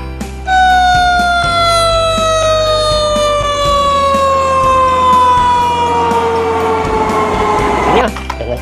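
A toy fire truck's electronic siren wails loudly for about eight seconds in a steady tone that slowly glides downward, then cuts off near the end, with a faint background hum.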